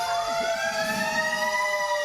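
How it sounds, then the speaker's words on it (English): A fire truck siren at the 2019 Lafayette Christmas Parade wails in a long, steadily rising tone over a low engine rumble, loud and continuous, with no voices. "So we've got the sirens"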